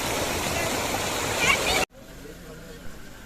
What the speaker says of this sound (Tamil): இந்த தண்ணி தான் நம்ம ஆகாயகங்கை வாட்டர் ஃபால்ஸுக்கு போகிற வாட்டருங்க